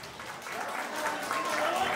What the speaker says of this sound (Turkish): Alkış isteyin.